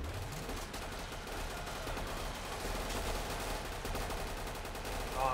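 MP44 rifle fire in the video game Killing Floor, rapid continuous automatic bursts crackling over a dense backdrop of game noise, fairly faint and steady throughout the stretch.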